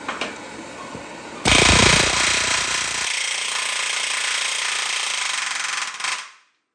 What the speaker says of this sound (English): I'm going to heat this rivet up again and hammer it a little bit more